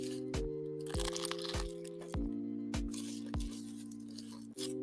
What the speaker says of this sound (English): You want to hear crunch?